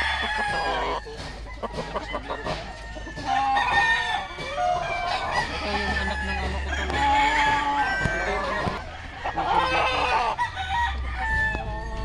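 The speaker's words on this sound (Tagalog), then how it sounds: "Kaninong manok ba yan?" Roosters crowing and chickens clucking throughout, several birds calling over each other, close and loud with constant farmyard commotion.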